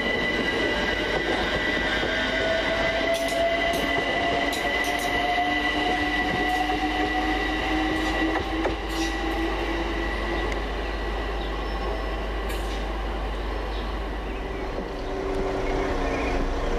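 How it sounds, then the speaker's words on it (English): London Overground Class 378 unit 378227 pulls away from Gospel Oak on a Stratford to Richmond service: a continuous close rumble with a rising electric motor whine and faint wheel squeal, no voices. "And now 378227. Finally depart, working the 1450 London Overground service from Stratford to Richmond."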